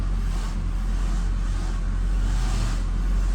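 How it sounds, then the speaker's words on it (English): Mercedes-Benz SL500 R230 with coilover conversion, tires turning on finished concrete with noise from the front suspension while steering; a steady, close low rumble with faint creaks, no talking. "you're going to hear the tires turning on the concrete, right? On the finished concrete, but there is also some noises coming from the front suspension when turning"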